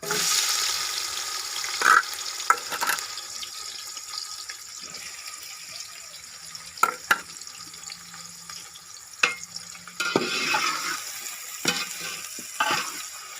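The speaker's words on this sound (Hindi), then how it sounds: "प्याज़ों को पकाते हुए हमने इनके ऊपर खूबसूरत सा गोल्डन ब्राउन कलर लेके आना है अच्छे से" Onions fry in a large pot with cumin and cloves, a continuous close sizzle broken by scraping stirs and occasional clanks.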